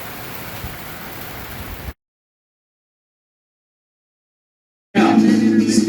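Rain falls at an outdoor rodeo, a steady broadband hiss that cuts out to total silence midway, then returns louder and closer, with some rumbling underneath.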